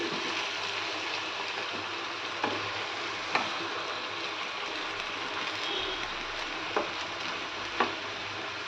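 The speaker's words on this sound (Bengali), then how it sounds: "একটু কিছুটা নেড়ে চেড়ে আমি তারপরে জল দিয়ে দেবো। এখন একটু নেড়ে চেড়ে নিই।" Chicken pieces being stirred in a frying pan for a stew, giving a continuous close sizzle of hot oil with a few sharp scrapes and clicks of the spoon scattered through.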